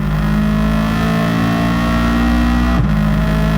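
A four-wheel-drive race car in Gran Turismo 7 at the Red Bull Ring roars loud and close at full throttle, its engine tone climbing steadily before a brief dip near the end, like a gear change; no talking.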